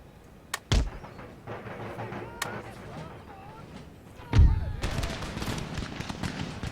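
Musket volleys and cannon fire from an Empire: Total War battle crack out in sharp, scattered reports, with a heavy booming burst midway followed by a rolling din of continued fire and faint voices.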